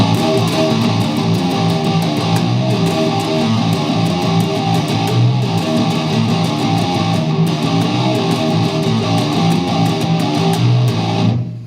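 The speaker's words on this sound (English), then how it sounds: "and then you hear the riff full on open," An electric guitar blasts a riff played fully open with no muting, a loud, thick, distorted wall of ringing chords and rapid picking that continues unbroken for nearly twelve seconds, then stops, without any speech.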